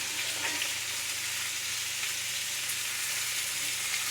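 Onions and garlic sizzling steadily in a hot cast iron skillet, a constant hissing crackle that stays even and close throughout, with no talking.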